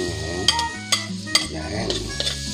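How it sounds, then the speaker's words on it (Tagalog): Garlic sizzles in butter in a pan, a steady close frying hiss broken by a few sharp utensil clinks against the pan. Soft tonal background music plays underneath. "Ituloy natin siya sa butter with garlic lang"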